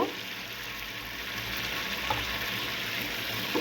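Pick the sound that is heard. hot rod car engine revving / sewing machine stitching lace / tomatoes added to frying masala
tomatoes added to frying masala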